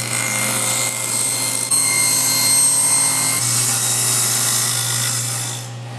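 A table saw runs at full speed and cuts through wood, producing a loud, steady high-pitched whine with a sustained motor hum that shifts as the blade bites, then winds down at the end.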